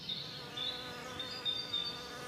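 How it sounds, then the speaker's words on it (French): Solitary bees fly past microphones set outdoors in nature, a soft steady whine of wings rising and falling in volume as individual insects drift near and away, with no talking. "On a eu les abeilles solitaires un petit peu, là, qui commencent à passer près des micros."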